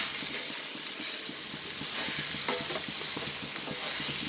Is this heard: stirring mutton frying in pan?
yes